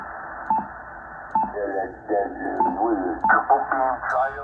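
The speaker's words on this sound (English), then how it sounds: "Pretty nice features, and of course the noise blanker." Receiver audio from a Yaesu FT-1000MP Mark V 200-watt transceiver with its noise blanker on, carrying band-limited speech broken by short clicky tone bursts. The sound is fairly faint and narrow, like a voice coming over the air.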